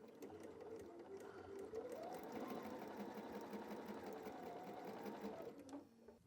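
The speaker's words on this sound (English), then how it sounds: "So I sewed right on the line." A sewing machine runs steadily, stitching fabric along a drawn line for a door banner, a continuous close whirring hum that speeds up briefly and stops near the end.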